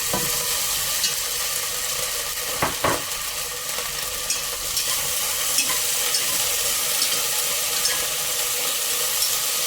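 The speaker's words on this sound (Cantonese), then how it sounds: "揾啲油煎下啲蝦" A few shelled shrimp fry in a little oil in a soup pot, giving a steady close sizzle throughout, with a couple of brief stirring scrapes near the start.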